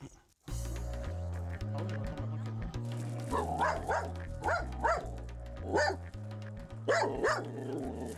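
Repeated sharp dog barks, fairly close, recurring in bursts over a background of music and talking.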